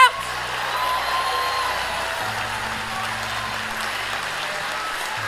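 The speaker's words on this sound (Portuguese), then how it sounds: "Mistura essas palmas com glória a Deus." Church congregation clapping together during a worship sermon, a dense sustained wash of applause with a low organ or keyboard drone underneath and faint voices mixed in.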